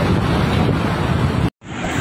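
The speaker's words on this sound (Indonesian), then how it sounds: "air laut saat ini sedang erop dan ombak cukup besar" Large sea waves at Cilacap beach surge in a loud, continuous roar with wind buffeting the microphone, cut by a brief dropout before resuming.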